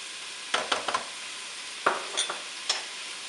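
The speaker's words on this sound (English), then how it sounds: "Now to this, I'm also going to add some of the minced garlic." Minced garlic hits a hot pan and sizzles softly as a utensil stirs, with a few sharp scraping clicks over a low frying hiss.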